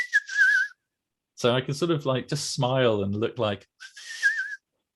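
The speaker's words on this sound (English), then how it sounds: "I can whistle without looking like I'm whistling." A person whistles a short melodic tune without pursing the lips, then someone talks, and the clear whistled melody returns briefly at the end.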